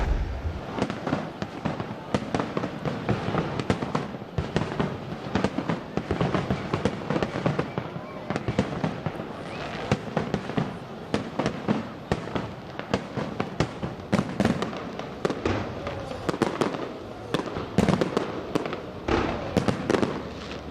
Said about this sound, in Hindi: मुल्क भर में साले नौ का शानदार आतिशबाजी से इस्तकबाल